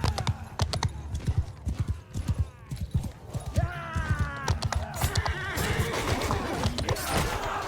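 Horses galloping during a battle in the video game Mount & Blade II Bannerlord, with rapid, loud hoofbeats pounding throughout and several whinnies and neighs rising over the clatter.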